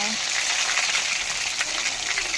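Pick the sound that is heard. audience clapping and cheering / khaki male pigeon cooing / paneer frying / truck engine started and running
paneer frying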